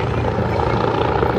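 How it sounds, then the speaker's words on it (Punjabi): A helicopter flies over the Stampede fair in Calgary, its rotor thumping as a loud, continuous close drone. "ਵਾਓ ਹੈਲੀਕਾਪਟਰ ਆ ਗਿਆ"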